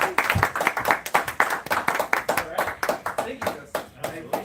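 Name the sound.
audience applause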